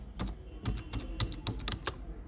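Someone types on a computer keyboard in WordPad, a quick irregular run of soft, close key clicks with short pauses between bursts and no talk over them.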